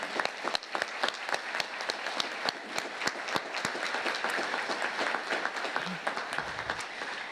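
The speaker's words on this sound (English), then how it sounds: "I'd like to give you guys a round of applause right now." A crowd at the Mission Viejo 2017 Veterans Day ceremony claps in a full, even round of applause, sharp individual claps standing out within the steady outdoor-sounding roar of hands.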